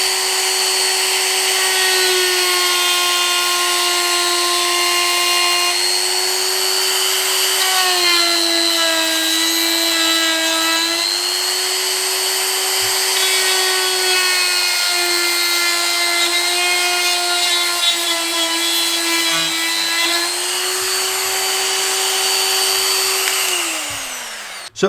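Makita GD0600 corded die grinder fitted with a carbide bit, removing stock from a workpiece: a loud, steady high-pitched whine with tonal overtones that shifts pitch slightly as the bit bites in, running continuously then winding down at the end.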